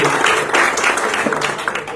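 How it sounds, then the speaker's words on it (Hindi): An audience at a Jain journalists' association discussion on animal welfare gives a warm round of applause to welcome a visiting swami, a brief dense burst of clapping. "स्वामी जी का जोरदार तालियों से स्वागत करें"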